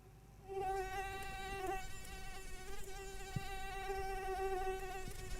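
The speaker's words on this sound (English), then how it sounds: "So that's the sound of a mosquito." A single mosquito buzzes in a steady, high-pitched whine that stays close and clear for several seconds, with no other sounds competing with it.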